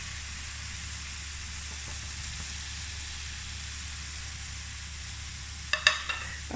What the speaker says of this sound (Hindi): अब इसके अंदर हम भिंडी डाल देंगे।